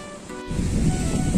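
Water rushes through the opened shutters of Kelaverapalli Dam, a broad, constant roar that swells louder midway through, with wind buffeting the microphone and no voices.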